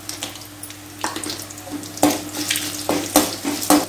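Cashews frying in hot oil with dried red chillies and green chillies in a tempering for variety rice, a steady crackling sizzle with sharper bursts of spatter and stirring clatter, close and fairly loud, with no talking.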